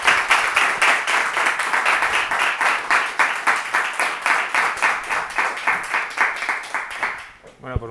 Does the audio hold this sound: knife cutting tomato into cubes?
no